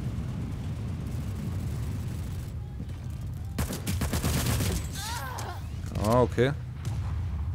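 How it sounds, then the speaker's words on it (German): Scattered gunfire in the online shooter PlanetSide 2, a few sharp broadband bursts standing out over a steady rumbling battlefield background, with a voice speaking briefly. "Irgendwo hat hier gerade einer geschossen."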